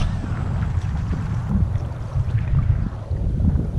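Strong wind buffets a fishing boat out on choppy water, a steady, loud, rushing roar with gusty swells that dominates throughout, with no voices over it.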